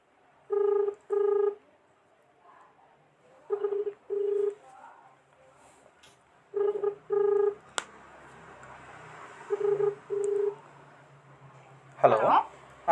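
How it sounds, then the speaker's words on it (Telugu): Telephone keypad dialing tones in paired bursts, repeated three times with short pauses, followed by a ringback tone and faint background noise, ending in a short voice as a phone call is placed. "ఫోన్ లిఫ్ట్ చేస్తారు లిఫ్ట్ చేయరు"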